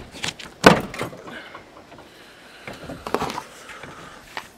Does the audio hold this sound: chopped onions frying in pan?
no